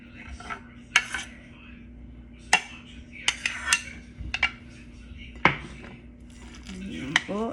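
Sticky rice is stirred with a coconut mix in a pot, producing scattered metallic clinks and scrapes of a utensil against the pot, close and irregular, over a faint steady hum.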